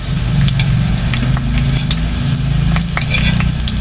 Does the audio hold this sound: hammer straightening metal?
no